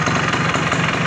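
Steady close idle of a Honda CDI 100 motorcycle engine, a constant low running throb at even level with no breaks and no talking.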